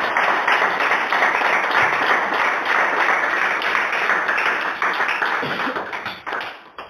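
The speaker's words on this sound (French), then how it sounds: "Applaudissez pour la sœur." Steady, dense applause from an audience for a woman at a church gathering, holding at a constant level for several seconds before tapering off near the end.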